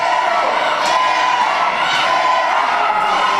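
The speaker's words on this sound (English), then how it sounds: "Crowd trying to get behind Matthews." A wrestling crowd at an independent UWC event cheers for wrestler Matthews, a steady dense roar of voices and shouts with a few sharper whoops rising out of it, close and continuous.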